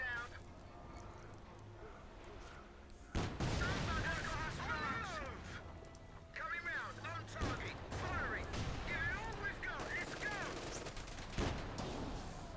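A tank's main gun and small-arms fire crack through a Company of Heroes 2 World War II battle, with a Puma armored car nearby: sharp, loud blasts at uneven intervals over continuous battle noise and a talking voice.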